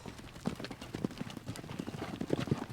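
Horse hooves clip-clopping on the ground at a steady walking rhythm on a ranch, moderately close, with faint background rustle.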